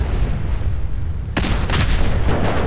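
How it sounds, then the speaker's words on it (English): A gasoline-soaked bridge going up in Fallout 4 gameplay: a low rumbling fire bed, then a sudden loud explosive burst followed by further crackling blasts and booms. "Fire and explosions are gonna happen."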